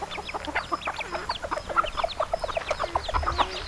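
A farm hen clucking close by, a rapid run of sharp, repeated clucks that keeps a quick, uneven rhythm throughout.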